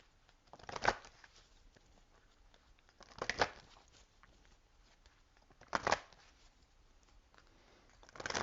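Romance Angels oracle cards are shuffled in three short, soft riffling bursts spaced a few seconds apart, quiet and close with near silence between them.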